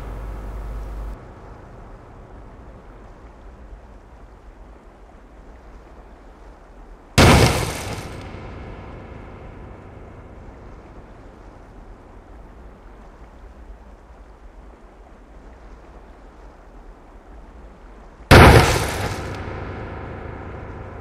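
Two grenades from a grenade launcher explode in Ghost Recon, each a sharp, loud blast followed by a rumbling decay, spaced about eleven seconds apart over a low steady ambient hum.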